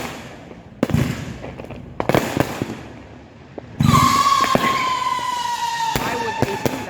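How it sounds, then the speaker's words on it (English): Christmas Day fireworks explode in sharp, scattered bangs, then a denser crackling barrage with a whistling rocket, heard from a distance amid ambient noise. "Why would they make such a horrid sound with a cacophony of fireworks?"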